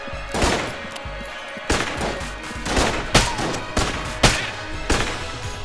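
Gunfire in Enter the Gungeon, a run of punchy shots at a fairly regular pace, each burst loud and close with brief decaying tails, and no speech over it.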